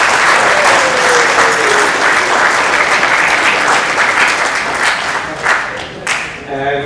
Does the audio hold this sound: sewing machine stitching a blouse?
no